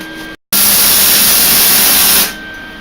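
A welder working on a Nissan 300ZX with a V8 swap gives a loud, steady hissing buzz up close that runs for about two seconds after a brief silent gap, then cuts off.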